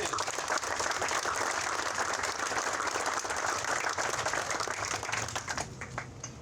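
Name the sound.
applause from crowd at Lemont 150th anniversary ceremony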